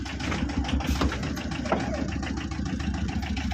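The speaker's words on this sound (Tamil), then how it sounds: "வண்டி ரிவர்ஸ் கியர் போகுது." A 2011 Tata Ace's engine runs at a low, steady idle while the small vehicle creeps in reverse gear, a close mid-pitched chug with light knocking and no break in the sound.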